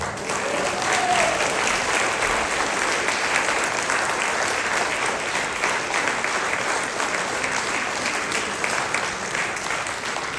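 A concert audience at a Ukrainian carol show in Golbey, France gives sustained applause, dense and steady clapping filling the hall with no let-up and no talk over it.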